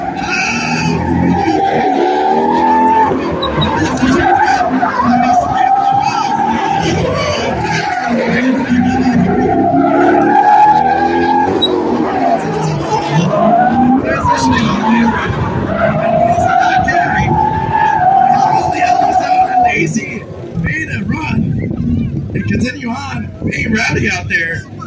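Drift cars with 200 to 300 horsepower sliding around a track at a drift event, a continuous loud roar of revving engines and screeching tyres with a commentator talking over it throughout.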